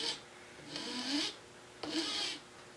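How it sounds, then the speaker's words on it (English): A file rasps across the molded plastic seam of a mini chainsaw's cap in two distinct, close strokes, each lasting about half a second with a short pause between. "So I'm going to try to file that smooth and hopefully the cap will seal."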